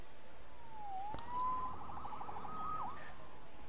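A police siren from the Marvel's Spider-Man PS4 video game wails steadily in the distance over a dense background of city noise, rising and falling across the whole stretch without any voices.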